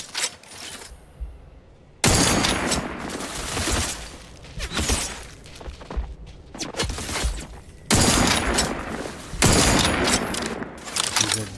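Loud gunfire from the game The Outer Worlds 2 comes in heavy sustained bursts. Broadband blasts and rattling volleys are split by brief lulls, with booming impacts that sound close and dense.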